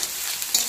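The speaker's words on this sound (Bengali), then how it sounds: "এই যে গোটা এলাচগুলো আমি ফাটিয়ে একটু ভেজে নিলাম" Whole cardamom pods crackling and frying in hot oil in a pan, a steady bright sizzle that flares briefly louder near the end, close up with no talking.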